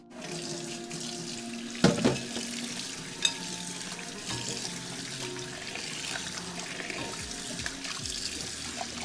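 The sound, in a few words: rinsing chicken wings under tap water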